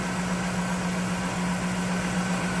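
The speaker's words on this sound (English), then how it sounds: "Look at this engine bay. How smooth that runs." A 1991 Cadillac Eldorado's 4.9 V8 idles smoothly in a steady, even hum with a constant low drone and broad hiss, close and unchanging, no talking.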